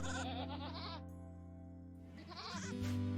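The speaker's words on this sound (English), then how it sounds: "Okay, you're milking the goats." Goats bleating in the Rimworld video game while being milked, two close, drawn-out wavering bleats separated by a short pause.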